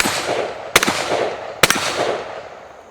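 A Chiappa Honcho Triple Threat three-barrel break-open shotgun fires twice, each shot a sharp loud blast with a brief echo, about a second apart, over steady outdoor wind noise.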